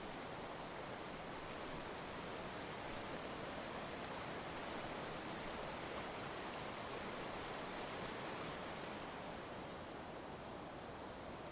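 River water flows steadily at a Roman bridge over the Vivei river, a continuous broadband rush with no pauses or other sounds.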